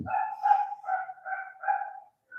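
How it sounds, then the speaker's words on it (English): A dog barks in a run of about five or six sharp, evenly spaced barks at moderate loudness, heard alone with no talking over it. "Dog is barking, somebody has come."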